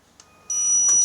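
A Regal 9 kg washing machine gives its door-not-closed warning, with a short beep followed by a steady, sustained high electronic tone that starts halfway through and stays loud and close, with no voices.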